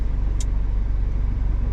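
Mazda MX5 fitted with a Friedrich Motorsport Group A cat-back exhaust, a steady sporty low exhaust drone while driving, loud and close with a brief high chirp early on, no talking.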